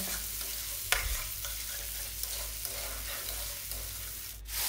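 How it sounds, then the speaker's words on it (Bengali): Spice paste stirred and fried in oil in a home kitchen pan, giving a steady, close sizzle with a soft scraping stir and one sharp utensil clink early on. "মশলাটা ভাজা হয়ে গেছে, তেল ছেড়ে এসছে।"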